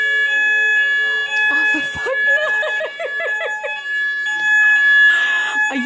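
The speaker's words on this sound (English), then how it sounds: "We've now got to evacuate because the fire alarm's going off." A shop's fire alarm blares loud, repeating electronic tones in rapid pulses with sustained beeps between them, and voices can be heard over it.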